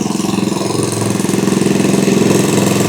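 A small scooter engine, bought secondhand from a thrift store and set to a low idle, putters close and loud in a steady pulsing rhythm that gradually grows slightly stronger, with no voices.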